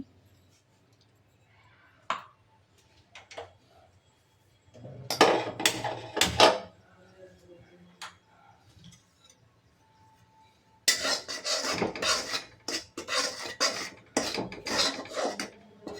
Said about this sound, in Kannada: ಫಸ್ಟಿಗೆ ಕಡಲೆ ಹಿಟ್ಟನ್ನು ಸ್ವಲ್ಪ ಹುರ್ಕೊಳ್ತೇನೆ